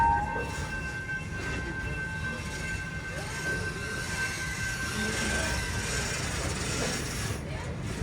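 An amusement park train at Busch Gardens, Florida rumbles steadily with low mechanical noise and a faint high whine, no talking, as it rolls slowly toward a stop.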